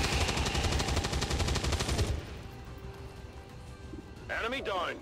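Rapid automatic gunfire from the video game XCOM 2 rattles loudly for about two seconds, then cuts off and leaves quieter game ambience with a brief whooshing effect near the end.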